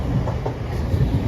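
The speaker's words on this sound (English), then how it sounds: "Oh, we've missed a fast train." A fast train passes through Doncaster station, heard as a brief low rumble with a few soft wheel clacks over the rails, moderately loud with no voices.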